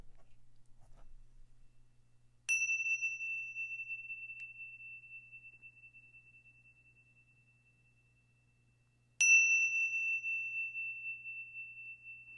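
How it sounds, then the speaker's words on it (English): Indian chimes ring out twice, each a bright metallic strike with a clear sustained tone that slowly fades, separated by several seconds of quiet. "My beautiful Indian chimes."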